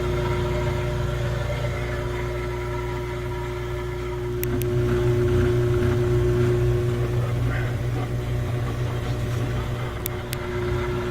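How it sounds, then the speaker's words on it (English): A Frigidaire laundry center washer motor runs while the transmission fails to turn, giving a steady mechanical hum with a faint rattle that swells slightly midway and carries on alone, with a couple of tiny clicks. "You see the motor is spinning, but it's not getting the transmission to spin."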